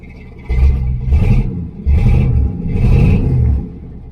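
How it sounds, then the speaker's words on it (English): A 1976 El Camino with the loudest Flowmaster exhaust and no tailpipe revs hard three times in a row. Each burst is a loud, close, deep roar with brief dips between. "It's all that Flowmaster, loudest Flowmaster you can get, I think, and no tailpipe."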